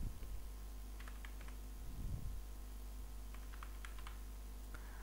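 Keys clatter in short quiet bursts as code is typed on a computer keyboard, two clusters of rapid taps separated by a pause, over a low steady hum in an otherwise still room.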